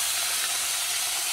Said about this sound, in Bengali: এই জন্য আমি অল্প অল্প করে ভাজবো,